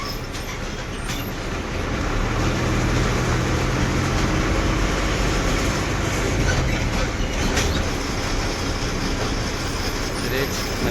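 An MSRTC Lal Pari bus rolling into the Rashin bus stand, a continuous loud engine rumble and road noise with rattling and voices in the background throughout.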